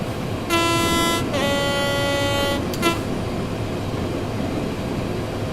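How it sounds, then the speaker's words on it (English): A train horn in the railway simulator Train Sim World 4 sounds in two long, loud, steady blasts, then gives a brief final toot, all over a constant rumble of rain and running noise. "There you go, a little bit of horn action."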